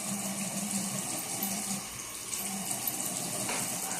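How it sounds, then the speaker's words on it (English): Water runs from a tap and splashes as a face is washed, a steady hissing flow with a few louder splashes, close and continuous with no talking. "I need to put some more water on my face"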